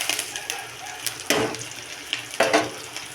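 Onion and curry leaves dropped into hot oil with mustard seeds and dried chillies for a Tamil avarakkai poriyal: a broad sizzling hiss with crackling bursts and a couple of sharper spatters, close and steady, no talk.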